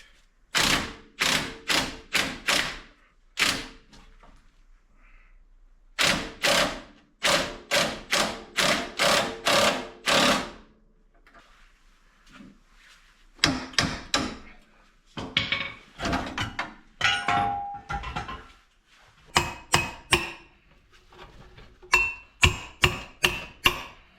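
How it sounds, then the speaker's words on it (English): A Suzuki Grand Vitara suspension spring is worked with a spring compressor, a series of sharp, loud, rapid clicks and knocks in bursts separated by pauses, close-up with no talking. "trying to compress the spring. Not that easy."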